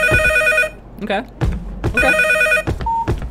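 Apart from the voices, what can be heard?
telephone ringing in a FNAF-like video game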